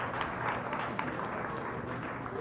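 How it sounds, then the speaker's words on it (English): Faint, distant applause for a magic act at the Barn at UCR, a soft, even wash of clapping from a small audience with light crowd murmur underneath. "Please give Joe a big round of applause"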